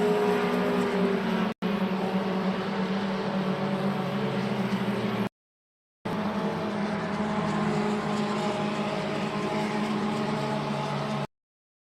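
Simulated race car engine from Le Mans Ultimate, played in VR, droning steadily with layered tones as the car loses control, broken by two brief silent dropouts.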